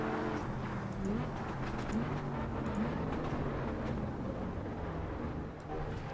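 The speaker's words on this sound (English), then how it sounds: "I love the sound of the 5 cylinders." A five-cylinder Audi RS engine in the racing game Assetto Corsa Evo, a faint, steady, raspy drone with a few rising pitch sweeps, easing off toward the end, with no talk.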